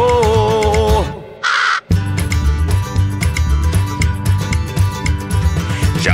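A crow's caws ring out repeatedly over the loud, busy backing of a Christmas song, with a brief squawk-like burst standing out early before the music carries on.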